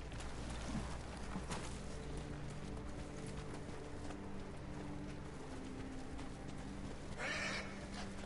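Horses in Ghost of Tsushima move and snort amid a steady ambient wash of wind and water, with soft hoof sounds and a brief whinny-like burst near the end.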